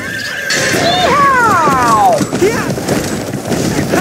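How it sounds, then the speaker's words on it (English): A horse lets out a loud, close whinny that falls in pitch, followed by a shorter snort-like call over steady outdoor noise. "The horse I am on is nicknamed Castle"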